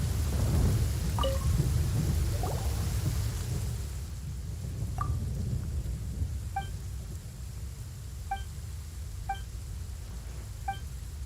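Steady heavy rain and a low rumbling thunderstorm roll through a video game scene, with scattered faint electronic chimes ringing out over the constant downpour.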